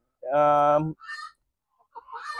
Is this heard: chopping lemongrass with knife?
no